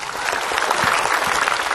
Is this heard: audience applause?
yes